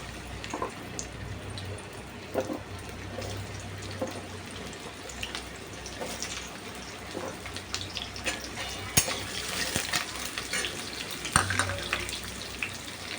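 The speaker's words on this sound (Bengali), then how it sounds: "তেলটা গরম হয়ে গেছে, আমি প্রথমে কুমড়োগুলো দিয়ে দিই, ভেজে নিই।" Pumpkin pieces fry in hot oil with a soft continuous sizzle, punctuated by occasional clinks and stirring sounds.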